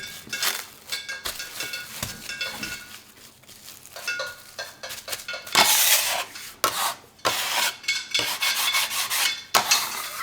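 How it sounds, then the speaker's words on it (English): Pasta dough is kneaded by hand on a wooden surface, giving repeated rubbing, pressing and slapping strokes in an irregular rhythm, close and moderately loud, with no voices. "you just want to knead and knead and knead until you have a nice smooth texture"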